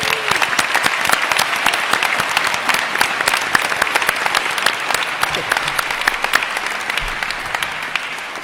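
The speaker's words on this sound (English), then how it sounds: "Can we get another round of applause for them?" An audience at a Williamson County, Tennessee Republican mayoral debate gives the two candidates a sustained round of applause, dense and even throughout, with a few sharper individual claps standing out.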